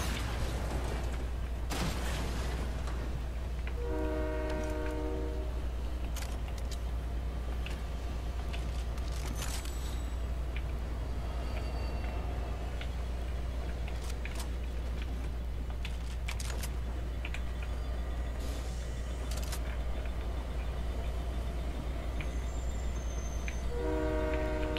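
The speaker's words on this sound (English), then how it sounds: "Never been on a train in Fortnite." A train in the video game Fortnite rumbles steadily and loudly throughout, with a horn blaring near the start and again at the end over a constant low drone and scattered clanks, with no talking.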